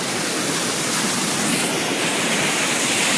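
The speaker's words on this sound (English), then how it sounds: "Goodbye, beautiful waterfall." A waterfall roars as a loud, steady broadband rush of falling water, close and continuous with no break or voices.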